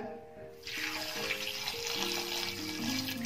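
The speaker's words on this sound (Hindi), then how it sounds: "एक कप पानी का डालकर" A cup of water pours steadily into a cooking pot, a broad splashing rush that starts abruptly and continues, with faint tonal hum underneath.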